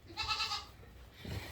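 A goat on a dairy farm gives a short nasal bleat, close and fairly clear, followed by a brief low rumble of farm background.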